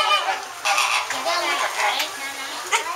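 Hungry birds being fed give loud, close honks and squawks in quick overlapping bursts, with a faint voice underneath.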